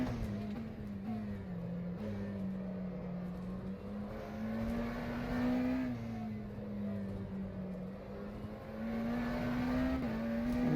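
McLaren Senna GTR hypercar engine lapping Sebring in the rFactor 2 racing simulator: a loud, continuous drone whose pitch rises and falls with throttle and gear changes across the whole stretch, with no talk over it.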